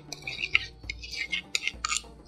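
Metal spoon scraping and clinking against a cooking pot while milk is stirred in for Egyptian muhallabia, a series of irregular, close scrapes and taps with no talking.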